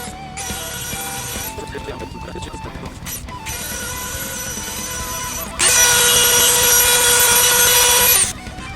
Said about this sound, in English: I'm just using this sander bit, sanding drum on my Dremel